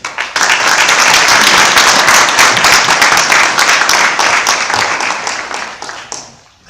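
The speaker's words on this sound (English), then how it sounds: "Ladies and gentlemen, put a big round of applause in a startup grind." Audience at a Startup Grind event in Kabul breaks into loud, dense applause welcoming a speaker, holding strong for several seconds before tapering off.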